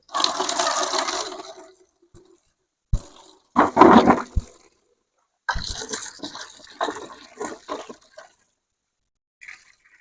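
Water runs while potatoes are washed, gushing in a few uneven bursts broken by brief splashes and silent pauses.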